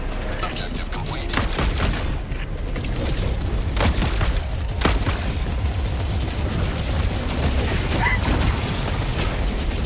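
In Helldivers 2, a SAM site activates with mechanical clanking and ratcheting, mixed with bursts of gunfire and booming blasts throughout the battle, while a player talks over the noise.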